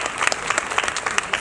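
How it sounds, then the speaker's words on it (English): An audience bursts into lively applause for a guest at an on-stage beauty talk event, a dense and steady clatter of many hands with no speech over it. "A big round of applause."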